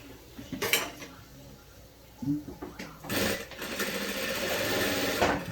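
A sewing machine stitches the closing seam of a cushion, sounding in short mechanical bursts with clattering between them and then a longer steady run near the end.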